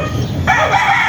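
A rooster at a chicken farm crows loudly and close by, a single strident call that breaks upward halfway through, with no talk over it.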